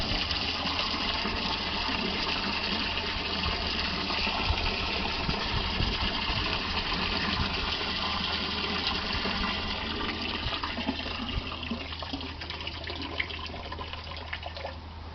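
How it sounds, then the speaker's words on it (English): Water gushing from a hose into an ice bath tub, a steady continuous rushing fill that carries on throughout with no talk. "It always drips because there's extra water in the hose."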